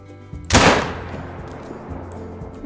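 A single loud hunting rifle shot in theHunter: Call of the Wild, a sharp close blast followed by a long fading echo across the open reserve.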